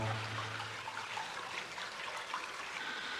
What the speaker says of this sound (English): here's that water flow coming down